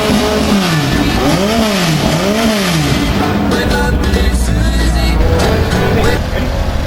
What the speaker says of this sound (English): I suspect the engine noises you're hearing in the background